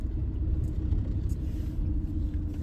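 Cars idle in a queue at a ferry port check-in gate, a low steady engine rumble close by with no talking.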